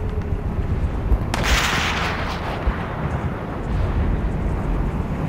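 Gunfire in the World War II shooter game Call of Duty: World at War, with a sharp burst cutting through a dense, steady roar of battle ambience, loud and alone without speech.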